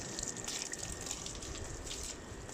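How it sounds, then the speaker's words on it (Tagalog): Water rinses over the cooling fins of an air conditioner during cleaning, a faint, steady spray and splash with a continuous watery hiss and no pauses. "Tubig lang po pinambabanlaw ko."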